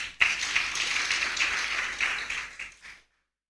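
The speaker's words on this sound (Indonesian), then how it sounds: "Kita berikan tepuk tangan" Congregation applauding together in a full church during a Sunday service, a dense steady patter of many hands lasting about three seconds, moderately distant, then stopping abruptly.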